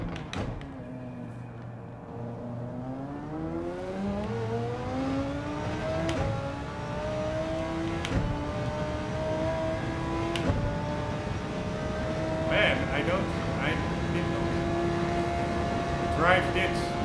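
A race car engine in Gran Turismo 7 drops in pitch under braking for a corner, then climbs again through repeated upshifts, loud and continuous, with a voice talking over it.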